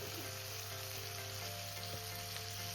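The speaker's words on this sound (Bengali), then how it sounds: "এবার আমি এর মধ্যে দিয়ে দেবো চিকেনটা।" Chicken fries in a pan with tomato, a steady close sizzle that runs continuously under a low hum, with a faint scrape of stirring and no speech.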